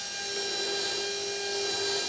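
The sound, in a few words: dental implant drill preparing mandibular osteotomy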